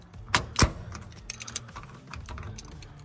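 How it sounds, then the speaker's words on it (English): Vice grip pliers clamping down on a washing machine hose clamp give two sharp, close metallic clicks near the start, followed by quieter handling rattles and faint scraping. "I need to get my vice grip pliers on the clamp"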